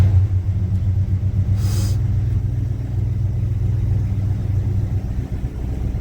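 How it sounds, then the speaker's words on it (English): Carbureted 350 V8 in an old square body Chevy C10 pickup idles close by, a steady low rumbling burble with an even rhythm and a faint ticking layer, running alone without talk. "I just had to get gas to it, and it'll crank right up."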